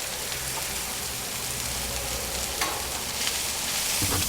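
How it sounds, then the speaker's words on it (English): Onions, peppers and jalapenos fry alongside cooked sausage for barbecue fried rice, giving a loud, continuous hissing sizzle with a few brief scrapes and pops as they are stirred. "Now that our sausage is cooked, we're going to add our veggies. Onions, peppers, our jalapenos."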